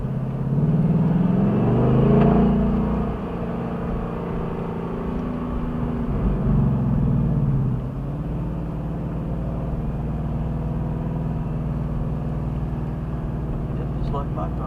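Ford Mustang engine droning steadily from inside the car on a lap of Charlotte Motor Speedway, a loud low rumble with a rise in revs early on, while people talk over it throughout.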